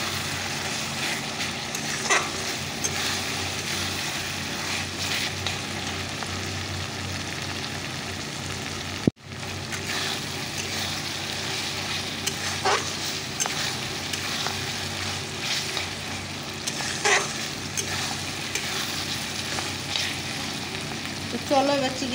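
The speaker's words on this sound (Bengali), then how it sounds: "চলো মশলাটাকে কষিয়ে নিই।" Spice masala frying and being stirred in a pan while a chicken curry is cooked, a steady close sizzle with occasional utensil scrapes and one brief dropout partway through.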